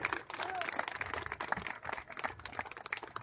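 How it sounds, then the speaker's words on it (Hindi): An audience applauds at a village panchayat ceremony for laying the foundation stone of a health sub-centre, with steady crowded clapping throughout that is moderately loud and somewhat distant. "जोरदार तालियां बजाइए इनके लिए।"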